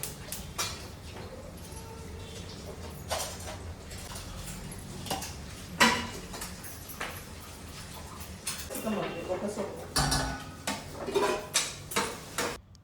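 Pots, pans and utensils clatter in a busy home kitchen in the morning: sharp metallic clanks and knocks come at irregular intervals, some loud and close, with a faster cluster of clinks near the end.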